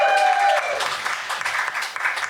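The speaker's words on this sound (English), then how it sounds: "Let's give a round of applause there for Jerry Nelson." An audience at a Muppet Movie anniversary event claps in a short burst that peaks early and then thins to scattered claps.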